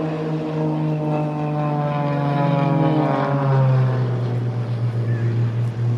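Blades aerobatic display propeller aircraft fly past at the Farnborough Airshow 2022, a loud, steady engine drone with a slowly falling pitch as the plane passes, heard alone without talk.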